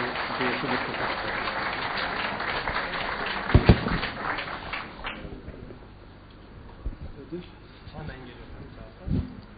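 Applause from an audience welcomes Energy Minister Hilmi Güler to the stage at a business awards gathering. It is a dense, steady clatter of clapping for about five seconds, mixed with voices, then fades to quieter room noise with a few scattered claps.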